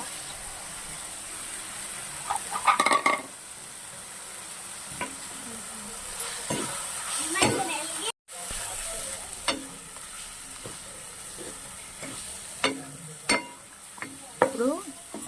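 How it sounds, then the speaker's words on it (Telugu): Potatoes frying in hot oil for a street-style peas chaat, with a steady sizzle broken by stirring scrapes and clinks of utensils against the pan, heard up close without talk. "ఇప్పుడు ఆయిల్ పైకి తేలింది కదండి, ఇప్పుడు మనం బంగాళదుంప వేసేసుకోవాలి ఇందులో"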